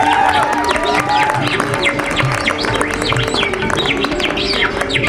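At a Hindi poetry gathering, a performer's voice imitates a small bird with rapid, high chirps and twitters, heard loudly over a steady background of crowd murmur.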